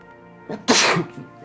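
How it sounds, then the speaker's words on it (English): A single sharp sneeze, close and loud, preceded by a brief inhaled catch, with quiet room tone before and after. "I had to sneeze."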